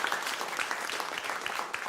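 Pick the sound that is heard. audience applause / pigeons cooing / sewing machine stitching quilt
audience applause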